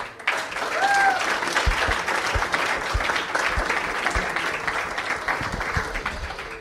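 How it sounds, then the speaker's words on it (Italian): A live show audience gives a guest warm, sustained applause, loud and dense clapping that slowly tapers, with a few voices heard under it. "un grande applauso per tutti i fenomeni"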